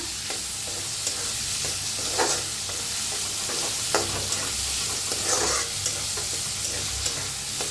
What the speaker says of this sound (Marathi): बारीक कापून घेतलेला कांदा, कांदा छान असा भाजायचा